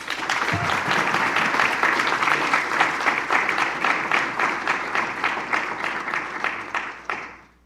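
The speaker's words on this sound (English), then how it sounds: "let's huge round of applause for our sponsors" An audience at a university hackathon closing and awards ceremony applauds the sponsors with sustained, dense clapping from a large crowd that stays loud and steady for several seconds, then thins out and fades at the end.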